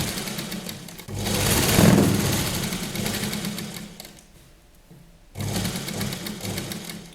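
A sewing machine stitches a child's Patiala dress in loud, steady runs, dropping briefly quiet in the middle before the motor picks up again close by.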